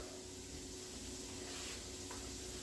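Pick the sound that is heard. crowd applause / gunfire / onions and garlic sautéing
onions and garlic sautéing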